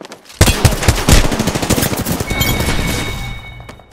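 Rapid automatic gunfire in a shooter video game: a loud, close burst of fast repeated shots that runs nearly unbroken for several seconds, with a few bright metallic pings near the end.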